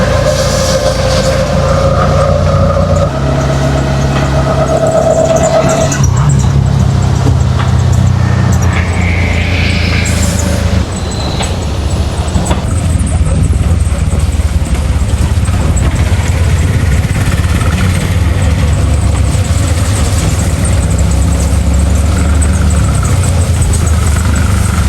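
Riding inside a moving auto rickshaw: a steady, loud engine drone and road rumble fill the whole stretch close up, with shifting rattles and a brief dip partway through, and no talking.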